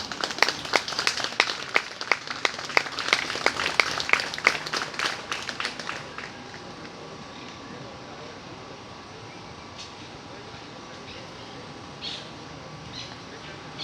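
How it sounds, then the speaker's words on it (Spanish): A congregation claps at an outdoor church gathering in a park, with loud, crisp, fairly rhythmic hand claps for about six seconds. The clapping then stops, leaving a quieter background with faint, scattered sounds. "Vamos a darle un aplauso al Jesucristo."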